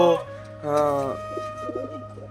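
Madrasi pigeons coo close by, two throaty rolling calls with a brief pause between, over a low background hum.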